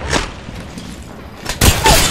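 A frag grenade detonates in Apex Legends, a sharp close blast near the end with a loud sustained roar, after earlier scattered gunfire thumps and a brief burst at the start.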